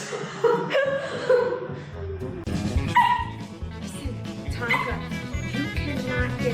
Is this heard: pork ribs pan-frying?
no